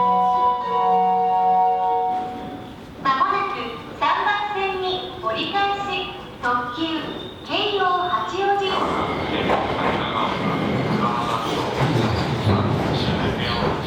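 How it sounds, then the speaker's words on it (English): Keio Line train at Shinjuku station in Tokyo, beginning with a held electronic tone, then a run of chime-like melodic notes, followed by a loud rumbling departure with noisy rolling sound. "We're starting off taking the train from Shinjuku station."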